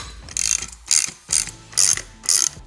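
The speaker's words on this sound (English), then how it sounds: "You're gonna need your own ratchet for the nuts" A 1/2 inch ratchet wrench tightens nuts while a Weather Guard Defender truck rack is installed on a Ford F-150. The clicks come in five crisp bursts at a steady rhythm, close and clear with no talk.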